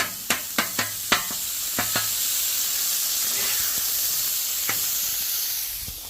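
Onions, peppers and ground beef sizzle on a Blackstone griddle, a steady hiss after a quick series of sharp metallic spatula taps at the start, with one more tap later on; no talking.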